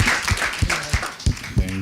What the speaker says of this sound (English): Please give him a very big round of applause.